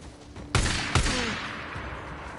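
Sniper gunfire in the Days Gone video game, two loud sharp shots about half a second apart, each booming and echoing off into a fading tail.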